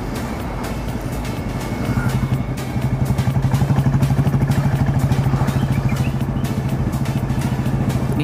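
Busy road traffic with buses rumbles steadily and fairly loudly, with a low engine drone throughout and clattering vehicle noise passing close by.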